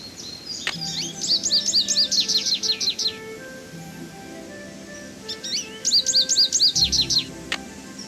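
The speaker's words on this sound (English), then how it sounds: "American robin." An American robin sings in the Nancy Drew game: two bursts of clear, rapid whistled chirps, the first running about two and a half seconds, then a pause and a second similar phrase, loud and close over a quiet background.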